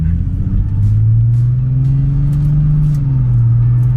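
A Nissan 370Z engine revs up loudly and close, its exhaust note rising and holding in a steady throaty drone as it accelerates.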